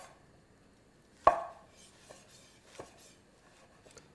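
Fresh white mushrooms are sliced with a knife on a cutting board: one sharp, clear chop, then a few softer, scattered cuts in a quiet kitchen.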